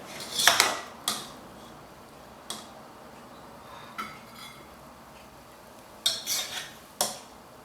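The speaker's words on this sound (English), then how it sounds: "I'm just going to stir them with a flat spatula. It's a careful stirring, not to break them." A flat spatula carefully stirs and scrapes vegetable pilau rice in a pan, giving a handful of sparse, sharp metallic clinks and scrapes separated by quiet pauses, close by with no talk.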